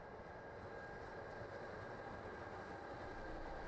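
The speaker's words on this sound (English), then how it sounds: "A nice shot of a Trenitalia Class 405 single-system freight locomotive." A Trenitalia Class 405 single-system electric freight locomotive hauls a freight train on the Brenner Railway in winter, producing a steady, faint low rumble with continuous rolling noise and no speech.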